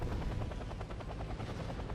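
A video game attack helicopter's rotor thumps in rapid, even pulses, steady and fairly faint, with a continuous engine whine beneath and no voices.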